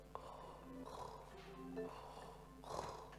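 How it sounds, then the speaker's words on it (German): Snoring and rattling breath drawn through an open mouth in a demonstration of nighttime throat noises, a rough, continuous rasp with louder wheezy peaks near the start and end, fairly faint and close. "Das Schnarchgeräusch, das Röcheln, das Rasseln, genau das passiert nachts in Ihrem Rachen."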